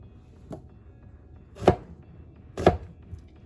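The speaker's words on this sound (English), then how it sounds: "I'll slice them up, put them in there so that I can measure it" A knife slices vegetables for brine on a cutting board, about four separate crisp chops spaced irregularly, two of them louder and closer, in an otherwise quiet setting.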